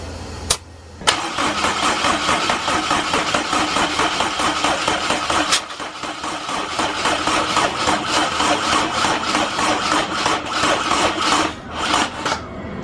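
A station wagon's engine cranks steadily on the starter during a compression test, a loud, continuous rhythmic churning with brief stops and restarts near the beginning and again around the middle.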